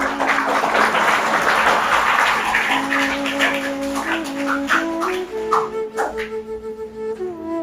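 An audience applauds at a ceremony honoring a social service worker from Dungarpur district. Dense clapping fills the first half, then thins into scattered claps as sustained musical tones rise beneath.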